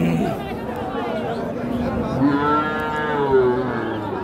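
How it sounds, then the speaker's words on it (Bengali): A deshi-breed cow at the Chandaikona cattle market lets out one drawn, rising-and-falling moo over a background of crowd chatter and voices. "আমরা দেখতে পাচ্ছি এটা একটি দেশি জাতের গরু।"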